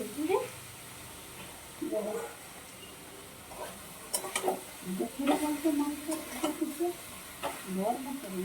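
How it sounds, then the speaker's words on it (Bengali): Fish frying in a pan is stirred now and then. Quiet sizzling runs under scattered scraping bursts from the utensil, and a voice speaks near the start. "মাছকে নড়ে চড়ে।"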